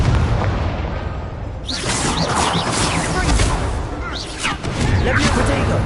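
A fire spell explodes in Hogwarts Legacy, a sudden loud whooshing burst followed by crackling bangs and sparkly effects, another burst near the end over a low game background.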